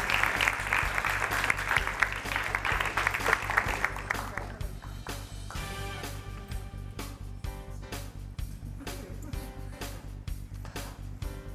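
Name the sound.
audience applause for a middle school team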